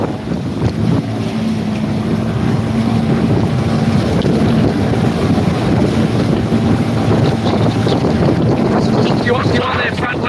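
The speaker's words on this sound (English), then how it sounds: "Now we're getting turned by the bloody wind." Strong wind buffets a houseboat drifting on the open ocean, roaring as a loud, steady rush against the microphone, with the rumble of water and the boat underneath the whole time.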